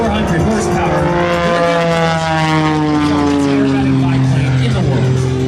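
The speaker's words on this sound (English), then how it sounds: "so let me tell you about this biplane" A 400-horsepower Oracle Challenger 3 aerobatic biplane at the NAS Jacksonville air show drones loudly and steadily, its propeller pitch sliding downward as it passes close by, with no talk over it.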